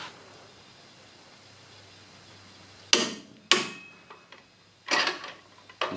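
Tekton torque wrench set to 130 foot-pounds clicking as it reaches torque: a few sharp, close clicks spaced about a second apart after a quiet start, with faint ratcheting between them.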